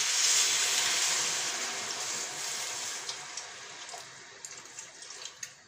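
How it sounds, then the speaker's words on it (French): Water pours steadily into a mixture of endive and flour, a continuous hissing splash that fades gradually and breaks into a few small drips and splashes toward the end. "On vient mouiller à peu près avec 1 litre d'eau."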